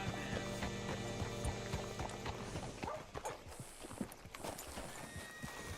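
A horse's hooves clip-clop steadily in Red Dead Redemption 2, a close, rhythmic trot over faint background music that slows and breaks into scattered, uneven steps near the end.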